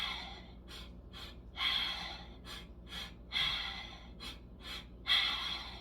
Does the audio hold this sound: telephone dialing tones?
no